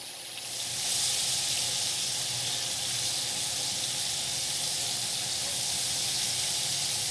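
Onions sautéing in a pan for liver and onions, a steady broadband sizzle that rises within the first second and then holds at an even, close level with no talking.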